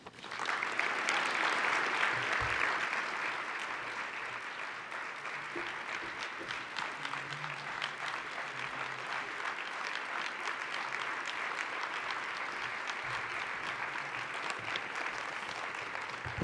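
Sustained applause from a conference audience at the 2017 ROA Summit, welcoming Arizona Governor Doug Ducey to the stage, a dense steady clapping that swells at the start and continues evenly throughout.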